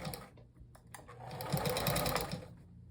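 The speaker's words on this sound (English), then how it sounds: "This is on my favorite sewing machine right here." A sewing machine fitted with a walking foot stitches fabric on a ribbon flip-and-sew project, its needle chattering in a rapid, even rhythm that speeds up and grows louder midway before easing off.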